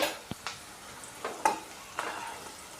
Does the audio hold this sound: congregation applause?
no